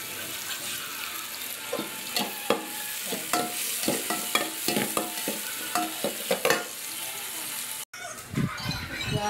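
Onions sauté in a pan while chicken tinola is being cooked: a steady sizzle runs throughout, with repeated scraping stirs, heard up close, then a short break near the end.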